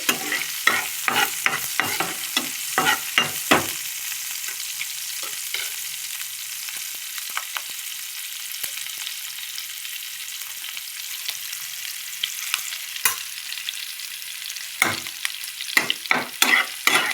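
Garlic frying in a pan for a Bengali fish lunch, a continuous sizzle broken by bursts of sharp scraping stirs at the start and again near the end, close and fairly loud with no voices.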